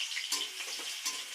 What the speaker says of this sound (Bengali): রসুনগুলো ভালো করে একটু ভেজে নেব।